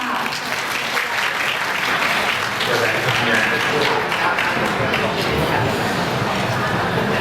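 Wedding celebration guests applauding to welcome the MCs, dense continuous clapping from a close crowd that holds steady throughout, with voices faintly mixed in.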